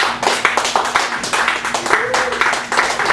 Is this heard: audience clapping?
yes